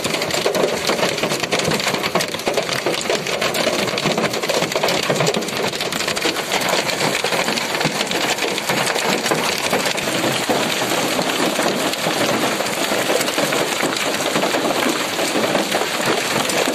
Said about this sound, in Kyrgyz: Мөндүр аябай нөшөрлөгөн көрүнүп калды.